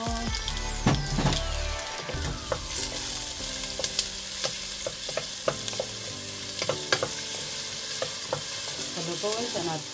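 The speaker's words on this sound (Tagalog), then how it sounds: "Palutuin natin natin masyado yung kamatis." Tomatoes stirring and frying in a pan for a Filipino upo and sardine dish, with a steady close sizzle under repeated scrapes and clinks of a utensil against the pan.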